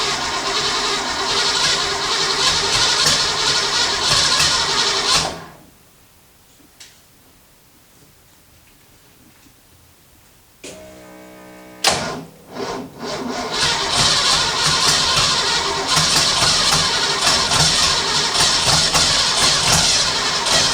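A turbo V8 swapped into a Toyota Corolla cranks and fires into a loud, steady running roar that fills most of the clip, broken by a quiet gap and a brief stuttering restart before the engine catches again.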